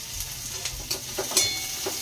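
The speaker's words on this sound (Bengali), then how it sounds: "চলো পেঁয়াজ আমাদের ভাজা হোক" Onions with a little salt fry in a pan for ghugni, giving a steady close sizzle with faint scattered stirring clicks and scrapes.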